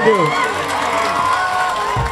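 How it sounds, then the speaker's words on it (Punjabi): A large crowd cheers and claps at a live Punjabi singer's concert, a dense, steady roar of many voices that stays loud and close throughout. "ਤਾੜੀਆਂ ਜ਼ਰਾ ਦੱਬ ਕੇ ਮਾਰ ਦਿਓ"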